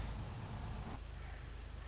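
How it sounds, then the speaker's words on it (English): In the SnowRunner video game, a truck's handbrake is released with a sharp, loud air-brake hiss lasting about a second, then the engine idles on in a low, steady rumble. "Handbrake off."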